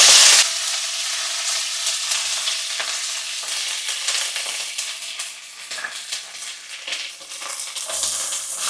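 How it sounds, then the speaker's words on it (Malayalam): Curry leaves crackle and sizzle in hot sesame oil with popped mustard seeds and fenugreek, a dense, steady frying hiss with sharp spits throughout, close and loud with no talking. "ഉലുവ പൊട്ടിക്കഴിയുമ്പോൾ കറിവേപ്പില കൊടുക്കാം."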